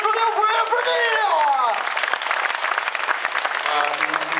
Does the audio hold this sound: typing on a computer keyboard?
no